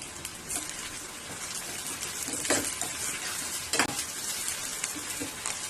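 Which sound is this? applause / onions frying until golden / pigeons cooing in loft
onions frying until golden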